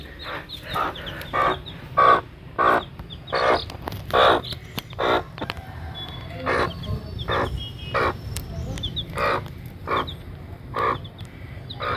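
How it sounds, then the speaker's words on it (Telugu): A hen with newly hatched chicks clucks in repeated short, fairly close calls at an uneven rhythm, with a constant faint farmyard background and no talking. "కోడి పిల్లలు అయితే పుట్టాయి."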